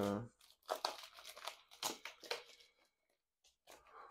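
Plastic film being peeled and torn off a steelbook case up close, crinkling and tearing in quick irregular bursts with short pauses between, quiet and alone.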